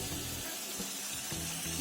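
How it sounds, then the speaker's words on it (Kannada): Tempering of garlic and dried red chillies being stirred into hot brinjal chutney, a soft continuous sizzle with light scraping of the spoon, close and steady throughout. "ಮಿಕ್ಸ್ ಮಾಡ್ತಾ ಇದ್ದೀನಿ ಒಗ್ಗರಣೆನ."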